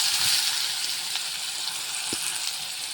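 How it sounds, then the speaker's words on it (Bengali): Chopped onion frying in oil in a kadai, a steady, close sizzling hiss with a couple of soft knocks from the pan and no voices. "প্রথমে কড়াইতে তেল দিয়েছি অল্প একটু পেঁয়াজ কুচি দেবো পুরোটা দেব না"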